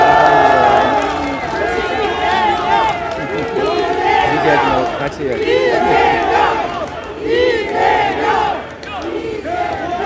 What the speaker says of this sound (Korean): 목도리를 둘러드릴 때 여러분 큰 박수와 환호 부탁드립니다